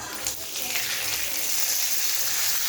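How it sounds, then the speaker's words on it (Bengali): Whole cumin, a bay leaf, a dried red chili and whole garam masala spices frying in hot oil for a Bengali yogurt fish curry, a steady close-up sizzling hiss that continues without a break. "গোটা গরম মশলা দিয়ে দিলাম ওটা ভালো করে একটু ভেজে নিতে হবে"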